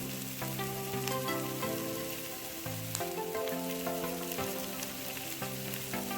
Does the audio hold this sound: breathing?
no